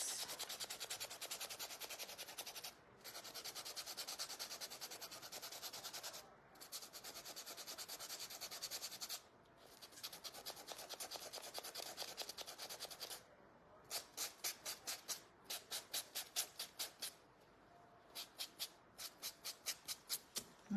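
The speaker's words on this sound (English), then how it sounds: "Sand her socks." Painted socks on a small wooden raggedy craft doll are sanded by hand in long, steady rasping strokes that give way to quicker, rhythmic short scrubs, close and continuous with brief pauses between passes.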